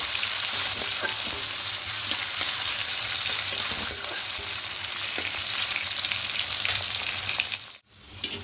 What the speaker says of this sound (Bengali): প্রথমে পেঁয়াজটাকে একটু ভালো করে ভেজে নেব